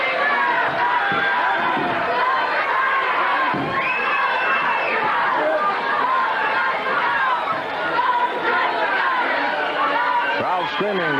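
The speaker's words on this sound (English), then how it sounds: "Crowd screaming, go, Takashi," A 1978 professional wrestling arena crowd screams, shouts and cheers continuously and loudly, with children's voices and excited chatter in a dense, sustained roar.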